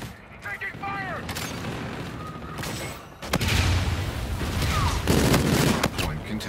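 Dense bursts of gunfire from a Call of Duty: Infinite Warfare Hardpoint match, loud and clustered, swelling into a heavier barrage in the second half, with voices faintly mixed in.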